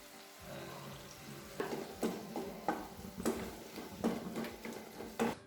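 Tomatoes, coriander and mint leaves sautéing in a pan, a faint steady sizzle broken by a series of light scraping and stirring taps.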